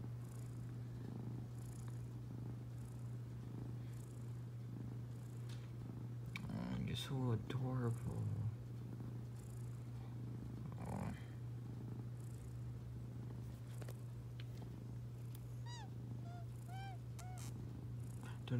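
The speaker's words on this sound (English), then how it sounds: "I don't know if you can hear him, but he's like purring really." A close, steady low cat purr runs throughout beneath a person talking softly, with a few brief higher chirps near the end.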